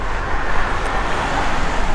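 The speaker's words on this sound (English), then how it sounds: "Car coming." A car passing on the road, a loud close broadband roar of tyres and engine that fills the whole moment, no talk.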